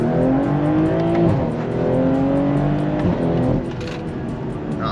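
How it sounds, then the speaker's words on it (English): A BMW G20 M340i with a downpipe and tune pulls hard in second gear, its engine note rising steadily and loud from inside the car, with a brief dip as the revs climb again. "a little second gear pull here."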